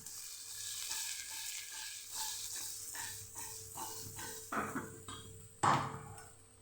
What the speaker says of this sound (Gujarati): બધું સરસ આપણે મિક્સ કરી લઈશું